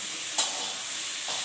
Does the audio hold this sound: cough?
no